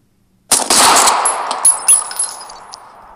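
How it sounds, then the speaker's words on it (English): A burst of gunfire from a comically large automatic rifle in JoJo's Bizarre Adventure: a sharp loud onset, then rattling shots with metallic ringing decaying over a few seconds. "A comically large automatic rifle."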